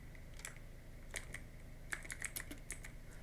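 Keystrokes tapped on a computer keyboard in short irregular bursts, each click crisp and close, with quiet pauses between clusters and no voices.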